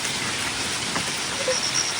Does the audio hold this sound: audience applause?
no